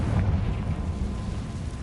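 A Confringo blasting spell in Hogwarts Legacy sets off a deep, rumbling explosion that rolls on heavily and fades slowly.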